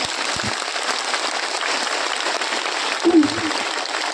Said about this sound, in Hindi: अपनी जोरदार तालियां बजाइए